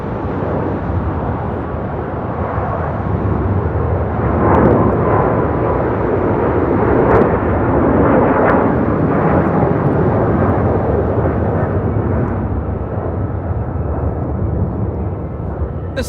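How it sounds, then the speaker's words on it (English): A Philippine Airlines Boeing 777-300ER taking off for Manila, a loud, sustained jet-engine roar that swells and holds steadily throughout, with faint talking underneath. "This is Philippine Airlines Flight 113 taking off to Manila on a 777-300ER"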